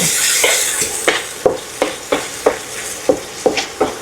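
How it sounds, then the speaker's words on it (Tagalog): Tomato paste frying in oil for chicken caldereta, a steady sizzle broken by a regular series of spatula scrapes against the pan, about two per second, close and fairly loud. "Lutuin ko lang po yung tomato paste ng konti."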